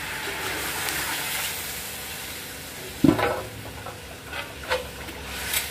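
Vegetable boiling water is poured into a pan of fried vegetables for Bengali sukto, cutting in with a sudden loud hiss midway over a steady sizzle of frying, with smaller hisses and stirring sounds following.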